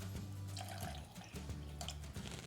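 Water is poured into rice flour batter for Kerala-style sukhiyan, with soft, faint trickling and dripping in a quiet kitchen and a low steady hum underneath.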